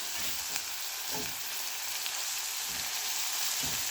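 Omena fish fry in hot oil with a loud, steady, close sizzle and crackle throughout, and faint stirring or scraping knocks recur roughly every second, with no talking.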